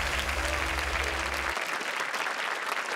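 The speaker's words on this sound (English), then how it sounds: "Can we give all of them a warm round of applause as well?" A warm round of applause at a national STEM championship, a steady crowd clapping throughout, with a low musical hum underneath for the first half that then cuts out.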